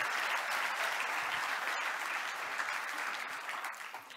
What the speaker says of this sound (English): So let's give him a warm applause.